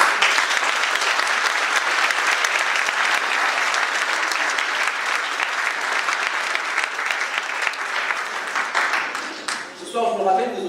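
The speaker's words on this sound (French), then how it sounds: "j'aimerais s'il vous plaît qu'on l'applaudisse." Loud, sustained applause from a large audience at a conference, steady throughout before easing off as a voice begins speaking near the end.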